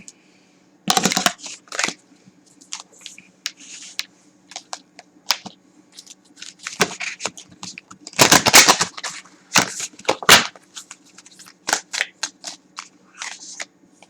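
Tarot cards are shuffled and pulled from a deck in quick, crisp bursts of riffling and snapping, close and clear, with short pauses between handfuls and no talk.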